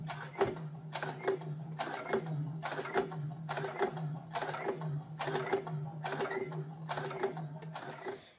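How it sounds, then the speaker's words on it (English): A sewing machine with a twin needle stitches a t-shirt hem, running in a steady series of about ten rhythmic mechanical bursts, each a whirring hum with sharp clicks at even intervals. "Just going to hand position the needles"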